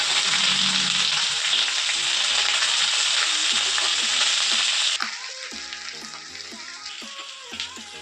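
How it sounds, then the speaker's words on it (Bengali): Onion fries in hot oil in a kadai after cumin tempering, a loud dense sizzle that suddenly drops quieter midway, followed by crackling pops and light stirring clicks. "এগুলোকে দিয়ে দিচ্ছি, পেঁয়াজটা ভেজে নেব"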